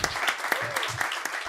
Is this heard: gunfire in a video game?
no